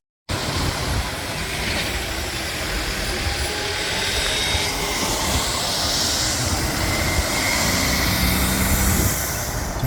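A light rail train arrives at a downtown Bellevue station, a steady broad rumble and hiss of wheels and motors that swells slightly as it comes in, continuous and fairly loud with no talk.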